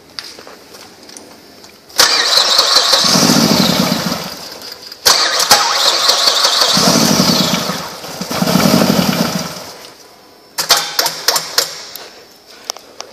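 A 2007 Mercury Milan with a 2.3 liter engine and a suspected fuel line fault cranks over in several long bursts of loud starter whirring. Short clicks and rattles follow near the end.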